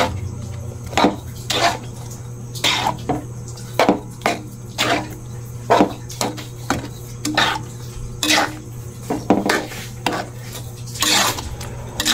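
Marmalade being stirred in a pot, with a spoon scraping and knocking against the sides in an irregular rhythm over a steady low hum, fairly close.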